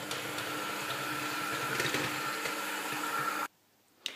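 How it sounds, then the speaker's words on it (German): An electric hand mixer whips egg whites until stiff for Kaiserschmarrn, a steady close whirring drone for about three and a half seconds, then cutting off abruptly, followed by a brief clatter. "Danach schlägst du das Eiweiß mit einem Mixer steif."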